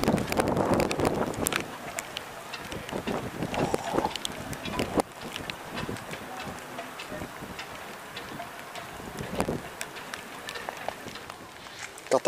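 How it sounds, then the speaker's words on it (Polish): Wind and heavy rain sweep through a marina in Croatia on a stormy day, winds forecast up to 35 knots. Steady gusty rushing and microphone buffeting mix with scattered drips and taps, moderately loud throughout the twelve seconds. "Dzień pierwszy, leje i straszą wiatrem do 35 węzłów."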